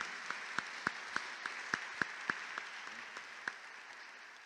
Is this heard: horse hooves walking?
no